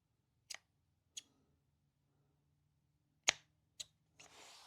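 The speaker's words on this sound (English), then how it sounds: "I'm gonna cut off the old end" Four sharp, isolated snips as scissors cut through the old end of a recoil starter cord, spaced irregularly in near silence, followed by a brief soft rustle.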